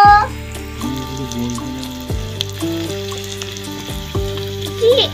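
Cumin, chili and turmeric fry in a small pan in a miniature toy cooking set, giving a steady sizzle beneath prominent tonal music throughout.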